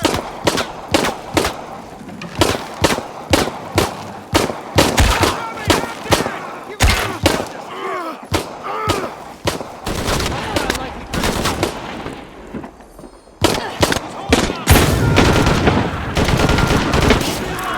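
Gunfire in Shadow of the Tomb Raider rings out as loud, repeated heavy shots at a steady, rhythmic pace. Dense volleys and rumbling impacts come in the later stretch, and brief voices sit among the shooting.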